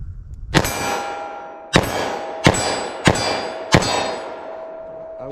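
Five sharp .357 Magnum shots from a short-barrel revolver firing Remington Golden Saber rounds at a target, loud and close, each with a bright metallic ring, spaced roughly a second apart.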